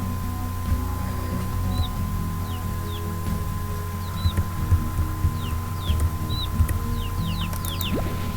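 Baby chicks in the farming game Slime Rancher, with small high chirps scattered across a steady game soundtrack hum, becoming more frequent toward the end.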